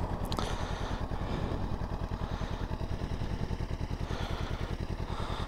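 A Honda CB500X motorcycle engine runs steadily up close, a rhythmic low putter with mechanical clatter throughout and no talk.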